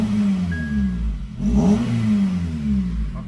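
A Honda Civic Type R 2.0 Euro engine with an aftermarket Seeker muffler idles with a deep, throaty exhaust note, then briefly revs up and settles back to a rumbling idle.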